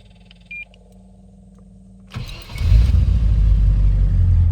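A quiet idle hum, then a cold classic Range Rover engine with new spark plugs and leads cranks and catches, settling into a loud, steady, smooth rumble close by.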